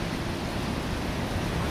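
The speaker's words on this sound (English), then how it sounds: "I don't hear all that wind into the mic, but you can hear it." Strong gusting wind over 25 miles per hour blowing near a house with a wind turbine, heard as a steady, dense broadband rush with a low rumble and no talking.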